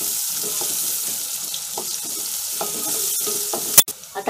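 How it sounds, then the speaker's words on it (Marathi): Finely chopped onion fries in a pan toward golden brown, a steady soft sizzle with light stirring scrapes and a sharp clatter near the end. "आता कांदा हा छान भाजत आलाय बघा"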